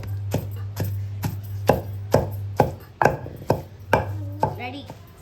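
Onions are chopped on a board for a tamarind-leaf chutney, with about eleven crisp, evenly spaced knife thuds over a low steady hum and no talking.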